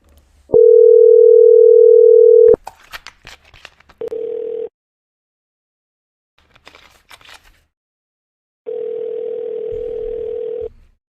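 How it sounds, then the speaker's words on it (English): A telephone line gives a steady, loud electronic tone for about two seconds, then shorter repeated tone bursts between quiet gaps and faint clicks, as a number is called again. "Okay, I'll just call it again."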